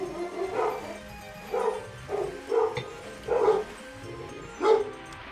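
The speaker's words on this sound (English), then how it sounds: "Also, the dogs are barking." Dogs bark repeatedly in the video game Ocarina of Time, a series of about six loud yipping bow-wow barks spaced roughly a second apart over faint background music.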